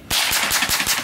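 An AK rifle fires a rapid burst of about five loud, close shots in quick succession, each a sharp crack with no talk over it.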